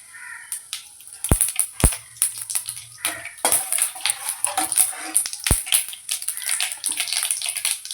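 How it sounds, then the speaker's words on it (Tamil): Mustard seeds and urad dal sputter and crackle in hot oil in a pan. Sharp pops come up irregularly over a hissing sizzle, close by and fairly loud, and no one speaks. "கடுகு நல்லா வெடிஞ்சிச்சு."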